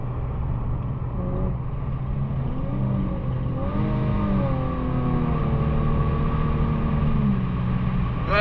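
Infiniti G37 with muffler and resonator delete accelerating in traffic, heard from inside the car as a loud, raspy exhaust drone that rises and falls through gear changes under a continuous rumbling road noise.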